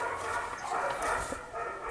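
Distant dogs yip and bark in scattered, muffled bursts over a constant background noise while a Mercedes is being repaired.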